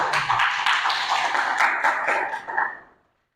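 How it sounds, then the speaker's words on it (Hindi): An audience claps together at a Hindi-language lecture on the Indian constitution, a dense, loud burst of applause that holds steady for about two and a half seconds before fading quickly to silence. "ताली बजाओ"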